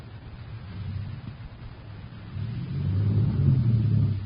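Heavy truck engine in an old-time radio drama, a low rumbling idle that swells into a louder, sustained rev toward the end, with no voices over it.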